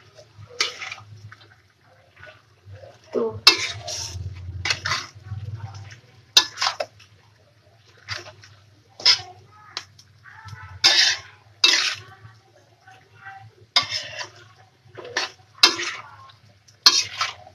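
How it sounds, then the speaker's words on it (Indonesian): Food being stirred in a pan during live home cooking, with rhythmic scraping strokes repeating every second or so over a low background hum, loud and close. "jangan lupa sambil diaduk ya biar rata"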